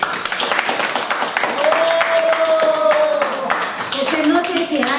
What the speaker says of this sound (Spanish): Vamos a darnos todos un fuerte aplauso.